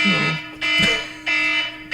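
A fire alarm goes off in a room, sounding as loud, steady high-pitched electronic tones broken into about three long repeated pulses, with no voices.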